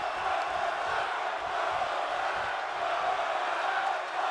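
Wrestling crowd at a TCWC Melee event cheering and roaring steadily throughout, a dense wash of many voices filling the arena with no breaks.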